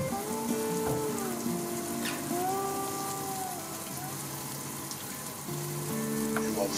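Tofu cooks in hot water in a pan, giving a steady bubbling sizzle throughout, under background music with no talk.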